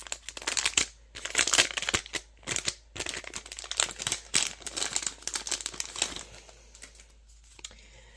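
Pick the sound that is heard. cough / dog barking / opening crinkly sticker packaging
opening crinkly sticker packaging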